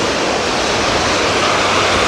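Ocean surf washes steadily onto Coney Island Beach in New York City at night. The dense, even hiss of the waves sounds close and fills the whole moment with no talking.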